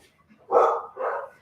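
Indoors in a home kitchen, a dog gives two close barks in quick succession, the first sharper and louder, the second slightly softer, against a quiet room.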